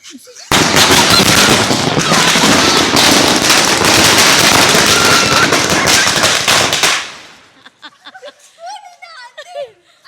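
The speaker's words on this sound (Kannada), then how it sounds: "ಅಯ್ಯೋ ಪಟಾಕಿ" A long, dense barrage of firecrackers crackling and popping loudly for several seconds, then cutting off into quiet with faint voices and chatter afterward.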